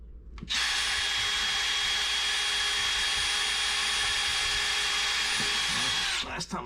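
Cordless drill driving a small cabinet screw into wood in a kitchen, one sustained high whine of about six seconds that starts abruptly and cuts off, with a faint clunk at the end.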